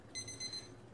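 A workout interval timer alarm gives a short run of bright electronic beeps, clear and close, during an at-home seated cardio session with no talking.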